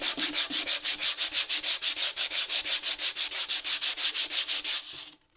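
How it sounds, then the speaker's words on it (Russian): Rhythmic back-and-forth scraping of sandpaper on painted wood, removing water-based paint, about four strokes per second, steady and close, stopping abruptly near the end. "Как ею можно шлифовать, да?"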